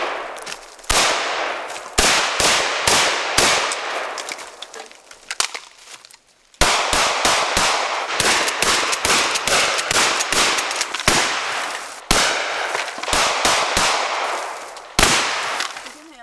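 Repeated gunshots fired at a target in Kennesaw, USA, loud sharp reports in uneven bursts and rapid strings with brief pauses between volleys, with faint talk.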